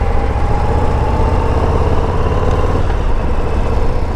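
A 2022 Harley-Davidson Low Rider ST engine rumbles steadily while riding, a loud continuous low-pitched drone with wind noise and no talking.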